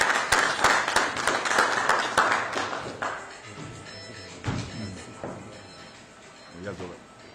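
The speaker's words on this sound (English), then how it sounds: "Let's clap for him." Applause from an audience at a soccer cup draw ceremony, a burst of clapping that thins out and fades as a voice begins to speak.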